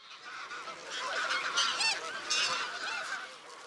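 A flock of Bewick's swans keeps up a steady chorus of overlapping honking and bugling calls at a wetland reserve. The birds sound fairly close, and the calling carries on without a break, with no talk.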